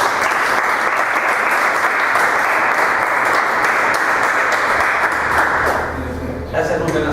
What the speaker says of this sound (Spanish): para quienes pedimos un aplauso